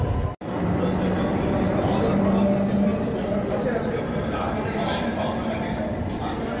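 A Kolkata metro train runs on the Howrah to Airport route, a steady rolling rumble with faint squeal and clinks from the carriage, under someone narrating.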